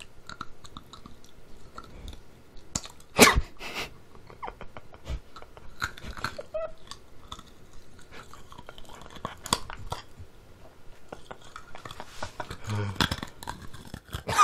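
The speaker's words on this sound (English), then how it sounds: "So like, it's very hard to chew." Hard cherry-flavoured rock candy being chewed close up, with loud crunches and cracking bites spread through the clip, some sharp and a few softer, over quiet mouth noises and no speech.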